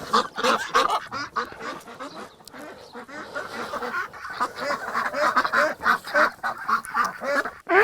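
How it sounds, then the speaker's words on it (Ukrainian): A farmyard flock of ducks and chickens being herded, with loud, busy overlapping quacks, honks and clucks close by in uneven bursts throughout. "Зараз корей випустимо, качок заженемо на місце"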